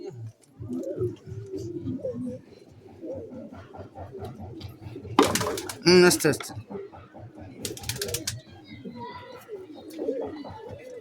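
Pigeons coo in soft repeated throaty pulses close by while someone talks over them, with a couple of sudden bursts of wing flapping in the middle.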